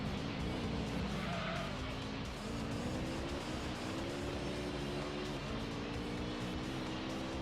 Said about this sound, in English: Like the GT1 Toyota. That's not how that car sounds.